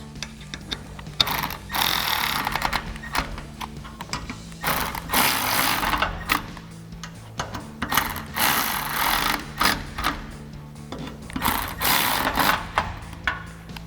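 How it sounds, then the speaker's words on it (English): Ratchet cranking down bolts on a hard top roof rack atop a Jeep Wrangler JL, repeated bursts of rapid clicking separated by short pauses, close and clear with no talking. "tighten down these 4 bolts."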